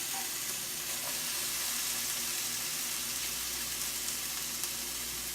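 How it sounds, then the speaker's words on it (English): Three sliced apples sizzle in hot olive oil in a pan, giving a steady, dense crackling hiss that runs evenly throughout with no talking. "And here are 3 sliced apples. Here's the sizzle."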